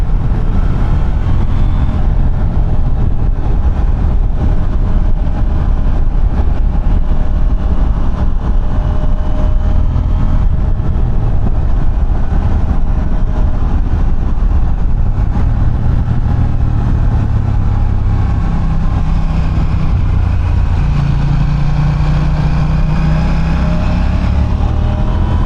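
A KTM 790 Duke motorcycle engine drones continuously while riding, a loud close low rumble with wind buffeting. The pitch slowly rises and falls through the gear changes, and nobody talks.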